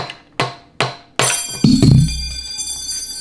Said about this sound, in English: I'm just going to tap on the cover so I can get in behind it